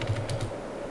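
Quick bursts of keystrokes on a computer keyboard, a short run of clicky taps in the first half second that then fades into a faint, steady room hum.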